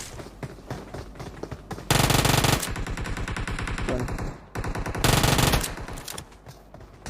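Loud bursts of automatic gunfire in a shooting video game, two long sustained rapid volleys separated by quieter stretches of game sound, no talking.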